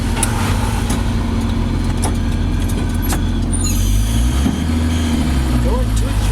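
A 1972 Chevy Custom 10 pickup truck drives along with a steady low engine rumble and road noise, loud and continuous, with some passing traffic sounds partway through.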